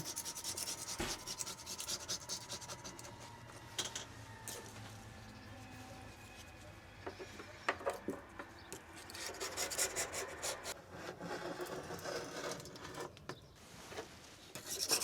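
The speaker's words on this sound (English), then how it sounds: "I'm just using a scraper to scrape off all the silicone" A scraper grinds old silicone sealant off the edge of an RV sink in a Jayco 154BH, a close, rasping scrape in irregular strokes with brief pauses between bursts.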